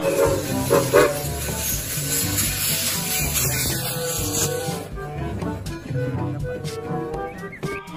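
A battery toy train runs up close with a steady hissing, whirring rumble and a tinny electronic tune, continuous for the whole stretch with no talking.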